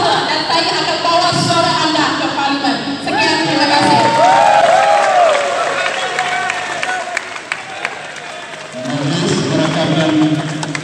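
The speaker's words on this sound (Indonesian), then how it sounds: "Bagi tepuk tangan kepada AJK." A crowd at the opening of a men's open volleyball tournament in Kluang claps and cheers for the organising committee, loud and sustained, with voices and whoops mixed in and a swell of cheering near the end.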